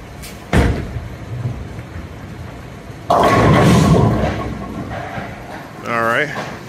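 A bowling ball, a Hammer Dark Web, hitting pins on a lane, with a sharp knock early on, then a loud rolling rumble and crashing clatter midway, followed by a voice near the end.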